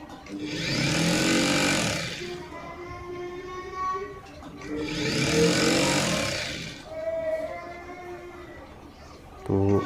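Sewing machine stitching lehenga kali panels together along a seam, running in two long steady bursts with a shorter third burst, loud and close, with a voice speaking over parts of it.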